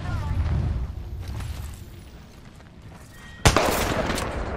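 Gunfire in the video game Apex Legends sounds as a sharp, loud burst of shots late in the moment, after a stretch of game background noise with a player talking.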